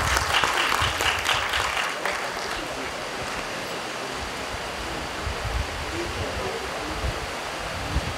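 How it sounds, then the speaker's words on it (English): Audience at a college event gives a big round of applause, dense rushing clapping strongest at the start and then settling into a steady wash of sound, with some voices mixed in. "Please welcome him with a big round of applause"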